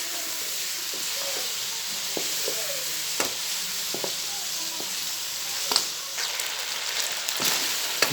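Ginger-garlic paste and chicken frying steadily in a pan, a continuous close sizzle with scattered stirring scrapes and small pops throughout, no talking.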